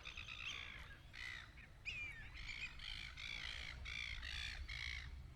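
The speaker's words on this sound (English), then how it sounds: "The seagulls are going crazy because they didn't get it first." Seagulls squawk and call repeatedly over Lake Hume in winter, a series of harsh cries at a moderate distance over a steady low outdoor rumble of wind or water.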